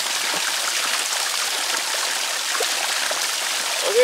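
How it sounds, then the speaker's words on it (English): Spring water runs in a small stream, a steady, close, broadband trickle and burble that holds evenly throughout with no voices. "this is a spring water. It flows like that year round"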